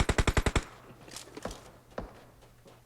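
Gunfire in the video game PUBG Mobile: a rapid burst of about six sharp shots, then a few scattered single shots spread out over the next couple of seconds. The shots come close and loud.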